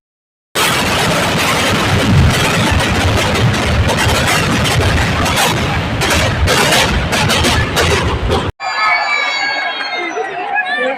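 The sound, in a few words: Thiruvambadi fireworks display at Thrissur Pooram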